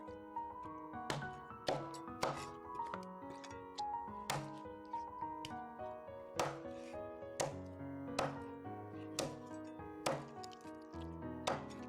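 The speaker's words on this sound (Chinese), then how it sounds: "把鱼给它剁成大大的小块。" A fish is chopped into large chunks for fish head and tofu soup, the cleaver landing in a dozen or so sharp, evenly spaced thuds on a board, close up over steady background music.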